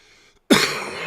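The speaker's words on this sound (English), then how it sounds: "I'm trying to mute the mic whenever I'm coughing." One sudden, loud cough bursts out close to the microphone after a moment of near silence, followed by a raspy trailing exhale.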